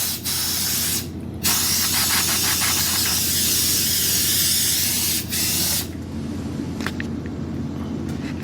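Bursts of sharp compressed-air hissing close by as a film negative is dusted off, several long blasts separated by short pauses, over a low steady background rumble.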